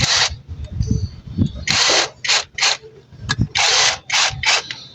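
A 10mm bolt with a washer is being tightened on a car clutch pressure plate with a power or ratchet tool, heard as several bursts of buzzing ratcheting separated by pauses, while someone talks.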